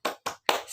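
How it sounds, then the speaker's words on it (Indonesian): Three sharp rhythmic claps, evenly spaced and close, as children beat out a cheer clap before a lesson. "sebelum belajar kita tepuk semangat dulu deh"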